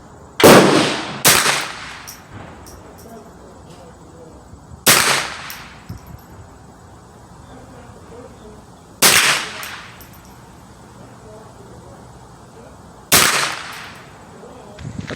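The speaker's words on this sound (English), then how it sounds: "with 22, I'm going to be taking 5 shots." Five sharp, loud .22 LR shots from a free-floated Remington 597 semi-automatic rifle at an outdoor range, fired at irregular intervals several seconds apart, each crack ringing off briefly against quiet background hiss.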